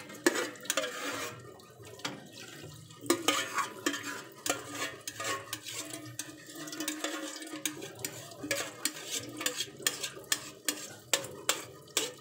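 Spaghetti being tossed and stirred through its sauce with a spoon, giving a steady run of wet scraping and clacking strokes close by, with no talking over it.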